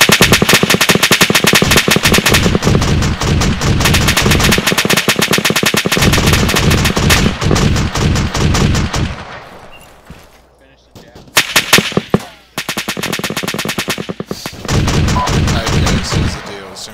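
Bursts of heavy machine gun fire from a gunner's seat on a technical in the military shooter African Ops, loud and close, in long rapid volleys that break off into a quieter gap before firing resumes.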